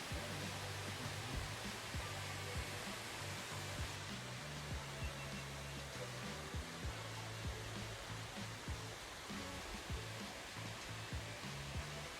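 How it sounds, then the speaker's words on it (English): Waterfall in the middle of a canyon on a summer road trip, a continuous loud broadband roar of rushing water filling the whole clip, steady and close with no speech. "it just so happens to be a waterfall smack dab in the middle of the canyon"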